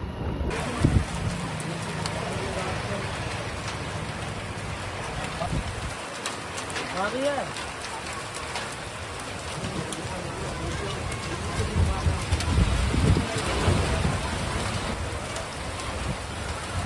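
Rain falls steadily during a thunderstorm in rural Bihar, a dense, constant hiss with low rumbling swells of thunder building and fading, heard throughout without clear speech.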